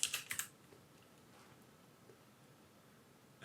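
A brief flurry of crisp, close computer keyboard keystrokes comes at the very start, followed by near silence.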